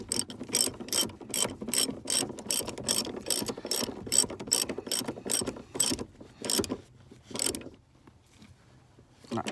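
A ratchet tightens a fire extinguisher mount in a Subaru Impreza Spec C, giving quick bursts of sharp clicking strokes in a steady rhythm, close and clear, then a few slower final clicks before falling quiet.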